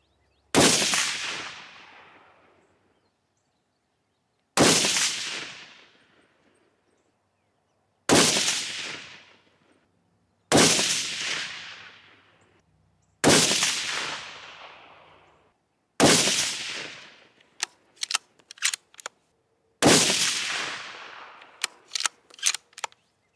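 A 6.5 rifle fires seven sharp shots spaced several seconds apart, each a loud crack with a decaying tail. Faint metallic clicks sound between some of the later shots.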